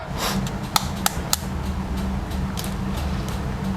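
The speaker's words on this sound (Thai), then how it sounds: "ตอกไข่ลงไปจ้า" A few sharp cracks and taps as an egg is cracked, three clicks close together early on, over a steady low background hum.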